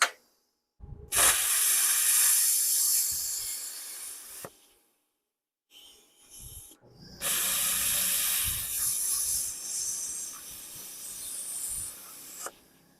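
YESWELDER Cut 65DS plasma cutter on a 1.5-gallon compressor slicing 3/16 steel: two long, loud, close hissing cuts separated by a pause with brief clicks and air bursts.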